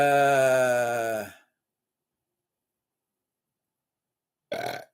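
A man lets out a loud, drawn-out burp lasting over a second in a quiet room, followed by silence and a short vocal sound.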